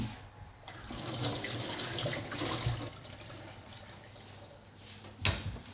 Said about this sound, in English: peel your potato, give it a quick wash